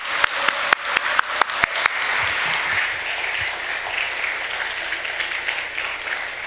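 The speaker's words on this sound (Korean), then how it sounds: "박수로 환영하겠습니다" A church congregation applauds as the pastor walks in for a Sunday afternoon service, with a few sharp, loud claps at the start giving way to steady, sustained clapping throughout.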